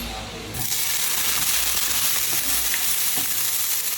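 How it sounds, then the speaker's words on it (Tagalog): Onion and tomato sautéing in a pan for corned beef sinigang, a loud, sudden rush of sizzling that starts after half a second and stays steady and close. "bali ginisa ko lang yung sibuyas sa kamatis"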